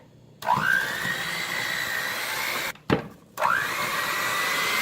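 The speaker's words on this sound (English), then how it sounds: "To my bowl, I'm gonna add my butter, my sugar, and I'm just gonna cream this together." Electric hand mixer creaming butter and sugar in a bowl for vanilla cupcakes, a steady motor whine that spins up, cuts off briefly, then starts again and runs on, close and loud with no talking.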